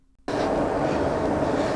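A Cross City Line train rumbles loudly and steadily after a sudden onset, a broad continuous roar of a carriage in motion heard from nearby.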